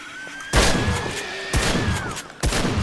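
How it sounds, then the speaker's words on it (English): Three loud shotgun blasts in the zombie game 7 Days to Die, spaced about a second apart, each with a sharp crack and a short decaying tail over a faint steady tone. "Test out our shotgun a little bit."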